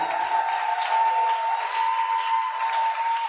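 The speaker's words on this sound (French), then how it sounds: "Je dis d'acclamer Jésus-Christ de Nazareth" A crowd cheers and claps steadily and loudly throughout, with a sustained ringing tone running underneath.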